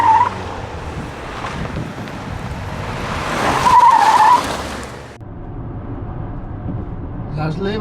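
A Mercedes GLC drives with engine hum and rushing road noise, tires briefly squealing as it corners, while a person talks over it.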